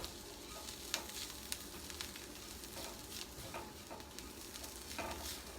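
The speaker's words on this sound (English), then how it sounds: "So just going to toast the breadcrumbs with my other ingredients here." Breadcrumbs toasting in a pan with other topping ingredients, a steady soft sizzle with occasional stirring scrapes and light clicks throughout, fairly quiet and close, no talking.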